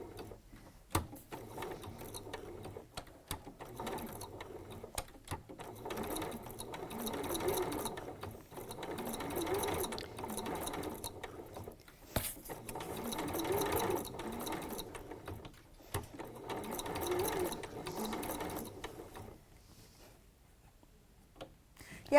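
A sewing machine set to its slowest speed stitches a bargello quilt along a drawn line, a steady low mechanical whirr broken by brief pauses and occasional clicks, with no talk over it.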